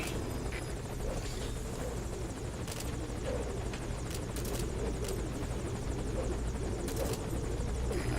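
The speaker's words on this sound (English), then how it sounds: "If you get on that chopper, you'll be aborting the mission." Helicopter idling at a landing zone in the video game Metal Gear Solid V: Ground Zeroes, a steady continuous rotor and engine drone with some faint intermittent clicks, loud and unbroken throughout.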